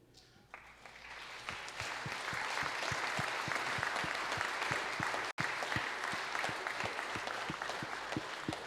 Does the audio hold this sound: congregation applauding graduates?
yes